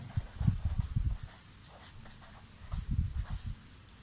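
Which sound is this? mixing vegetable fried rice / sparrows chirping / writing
writing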